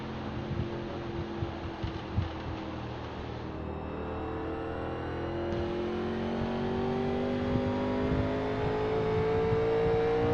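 Simulated 1987 NASCAR stock car at Phoenix in iRacing, its engine droning steadily as the throttle is fed in smoothly, pitch climbing gradually through the run with rising loudness and no talk.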